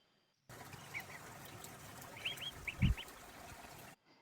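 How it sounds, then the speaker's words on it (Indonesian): Several short, high-pitched chicken calls rise over a steady outdoor hiss, a few close together with a soft thump among them. "di sini kan ini hanya suara ayam"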